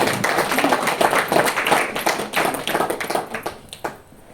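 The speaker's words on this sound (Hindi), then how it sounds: "तालियां बजाइए उनके लिए।" An audience breaks into scattered hand clapping for a person, a few seconds of uneven, close applause that thins out toward the end.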